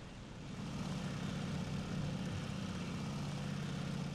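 Warplane engine in the World War II flight game IL-2 Sturmovik: Birds of Prey, a steady, close propeller drone that rises slightly at the start and then holds a constant roar, with no talk over it.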